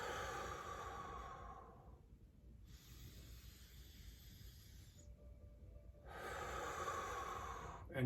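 Slow, steady breaths in and out, close and audible, paced to arms rising overhead and lowering during a calm compassion practice exercise, with no talking.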